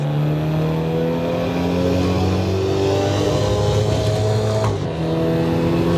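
A front-wheel-drive car engine in the Assetto Corsa EVO racing game revs and accelerates with a loud, rising tone, a brief dip near the end, and no talk over it.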